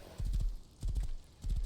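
Horse galloping in the survival video game Rust, with rapid hoof beats arriving in three short bursts separated by brief lulls, close and moderately loud, with no talk over them.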